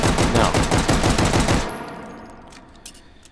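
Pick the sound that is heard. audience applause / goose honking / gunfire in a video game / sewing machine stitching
gunfire in a video game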